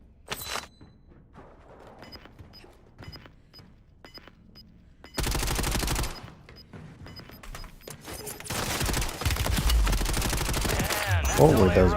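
Gunfire in the video game Warzone: scattered single shots give way to loud sustained automatic bursts, with a voice talking now and then over the shooting.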